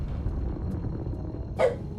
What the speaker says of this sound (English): Okay, stop barking, young lady.